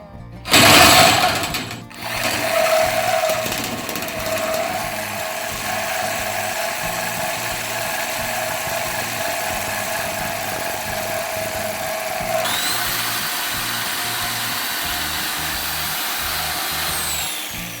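A power tool cuts metal pieces for a Range Road EcoPro 300 chainsaw bar cylinder kit, whirring steadily and close with a buzzing, rattling drone that shifts pitch partway through and runs on without talk.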